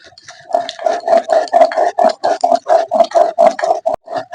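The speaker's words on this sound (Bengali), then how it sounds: "তাহলে আর একবার একটু বেটে নিই ভালো করে" Taro paste (maan kochu) being ground by hand on a grinding stone: a steady, fast rhythm of close, loud rubbing strokes, roughly five per second, continuing without pause.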